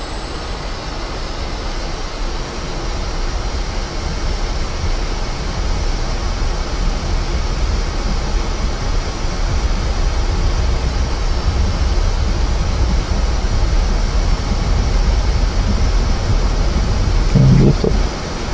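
A MiG-15bis jet engine in DCS World spools up toward 9,000 rpm, a steady, loud broadband roar with a thin high whine that holds constant and swells slightly near the end.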